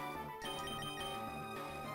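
A phone notification ringtone for a Logitech message, a steady electronic melodic tone with bright repeating harmonics, playing alone at moderate volume through the short clip.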